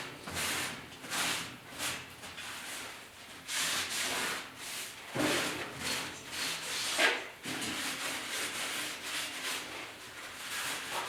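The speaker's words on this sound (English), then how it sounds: "I'm just wiping it down, a little bit of wax and grease" A metal kitchen corner shelf is wiped down by hand to remove wax and grease, giving soft, repeated rubbing and swishing strokes at close range with brief pauses between passes.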